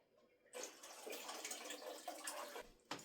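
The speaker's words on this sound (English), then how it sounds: "So I'm going to pour in my strong tea." Strong tea brewed from two tea bags pours into a pot as a steady, close liquid stream of gurgling and splashing that runs for a few seconds, then stops with a final splash.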